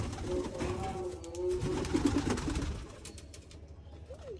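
Hungry pigeons being fed grain coo in low, throaty rolling phrases, fairly close, with faint background noise and a few light chirps near the end.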